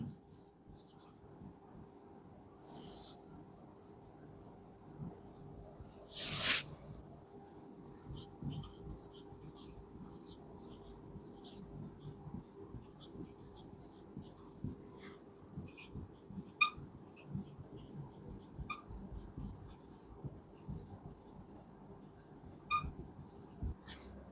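A pen scratches out a lesson heading by hand, faint and close, in short bursts of strokes and taps with soft rustles between them.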